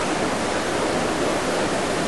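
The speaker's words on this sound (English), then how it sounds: "So I'm going to engage low electric charge by turning on the water wheel." Water wheel turning at an old mill, giving a steady, loud rush of splashing water that fills the whole moment with broadband noise and no talking.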